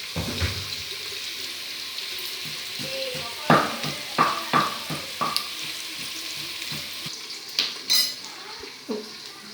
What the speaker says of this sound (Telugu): ఆనియన్స్ వేగుతాయి.